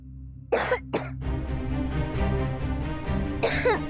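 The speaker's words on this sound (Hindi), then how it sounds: "अब खांस क्यों रहे हो?" A person coughs harshly several times close by from burning garbage smoke, rough bursts at the start and again near the end over a steady droning background.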